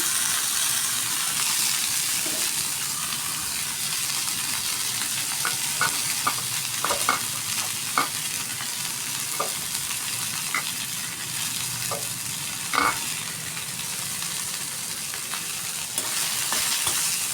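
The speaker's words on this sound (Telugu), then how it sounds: "ఇదే నూనెలో చింతచిగురు కూడా వేసేసి వేసుకున్నామండి" Tender tamarind leaves fry in hot oil with a steady, close sizzle throughout, broken by a scattering of sharp little pops and the occasional scrape of stirring.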